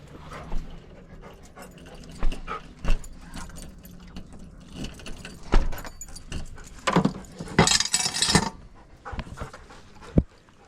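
Panting of an excited husky out on a mountain biking trip, quick rhythmic breaths close by, mixed with jangling tags or keys and brief rustles, with no talk.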